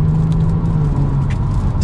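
A 2022 Genesis G70 accelerates in comfort mode from third gear, heard from inside the cabin as a loud, steady low engine drone and road rumble with no talk over it.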